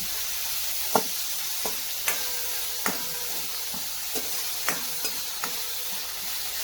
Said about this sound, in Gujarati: મસાલાને આપણે થોડા શેકી લઈશું